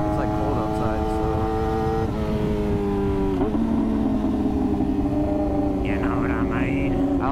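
A 2017 Yamaha R6 motorcycle rides along on a cold day at low speed, its engine a loud steady drone with pitch shifting slightly, with a rider talking over it.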